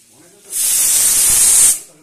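Pressure cooker whistle releasing a loud, steady jet of steam while peas cook, lasting just over a second before cutting off, with quiet kitchen noise around it.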